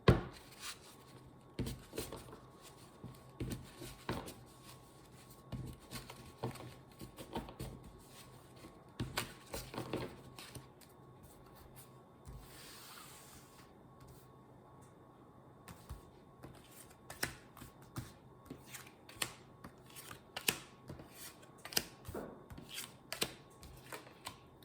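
Cards being shuffled and drawn for a five-card tarot reading, a steady stream of soft, close papery flicks and taps with occasional sharper snaps, quiet and without talk.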